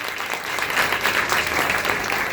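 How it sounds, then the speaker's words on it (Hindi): Loud, steady applause from an audience at a Hindu Ram Katha religious discourse, continuous clapping sustained evenly with no talking over it. "तो एक बार जोरदार से ताली हम दोनों के लिए"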